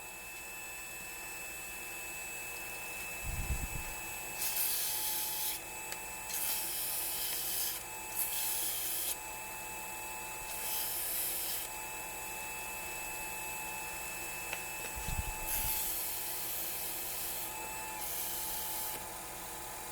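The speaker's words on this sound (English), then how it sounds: "This is a 600 grit sandpaper." Fine 600 grit sandpaper rubs wood spinning on a Porper Q-Lathe Model B in several short raspy bursts, with a low motor hum and a couple of soft thumps between them.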